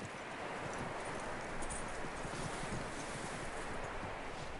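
Horse hooves in the video game Red Dead Redemption 2, a continuous soft clip-clop beneath windy outdoor ambience, moderately loud and steady.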